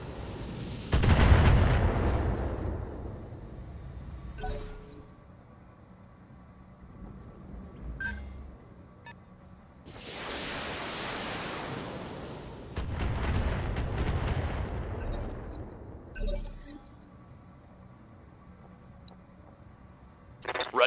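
Heavy mech weapons fire on a target in the BattleTech video game. Two long volleys of booming, crackling gunfire roll in, the first around the opening seconds and the second in the middle, with quieter mechanical clanks and beeps between them.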